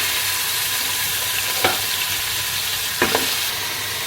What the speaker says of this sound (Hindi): तो यहाँ पर गोश्त की हमने भुनाई करनी है अच्छे से, बहुत अच्छे से हम इसकी भुनाई करेंगे।